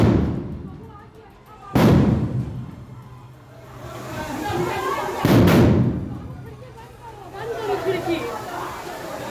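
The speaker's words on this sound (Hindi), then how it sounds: "एक के बाद एक कई विस्फोट हुए" Two loud, sharp bomb blasts boom a few seconds apart in a narrow lane, each followed by rumbling echo and frightened voices in the background.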